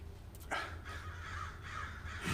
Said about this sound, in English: You think they're grackles, but they're crows.